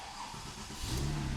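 A Porsche 996 Turbo engine cranks and catches, a brief close buildup rising into a low, steady rumble as it fires and settles.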